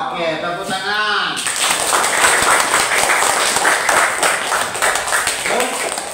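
Schoolchildren in a classroom clap together after a short spoken line, a loud, dense round of applause that continues for several seconds, with a voice rising again near the end.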